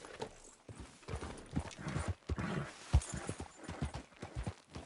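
Horse hooves clip-clopping in Red Dead Redemption 2, a steady close rhythm of hoof strikes with occasional snorts, heard alone.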